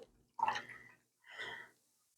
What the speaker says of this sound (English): I'm going to add 4 cups of ice water to this to cool it down before I use it.